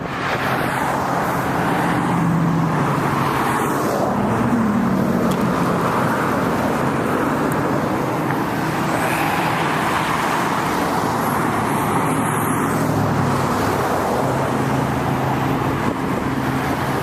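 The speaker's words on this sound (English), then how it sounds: "Now I'm about to cross this freeway. You can see there's cars coming." Continuous freeway traffic roars past nearby, cars and heavier vehicles overlapping in a steady wash of tyre and engine noise with occasional swells as individual vehicles go by.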